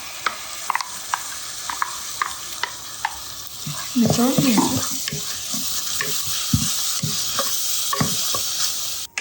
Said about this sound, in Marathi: आता ही जी टोमॅटोची प्युरी तयार केली यामध्ये घालूया